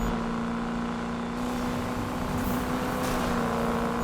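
Hot rod car engine in the Need For Speed game (2015) revving steadily, a continuous loud drone with a fixed tone and slight swells, no speech.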